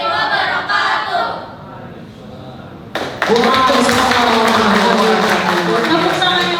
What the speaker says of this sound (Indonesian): Tepuk tangan yang meriah untuk SMP 29 Hulu Sungai Tengah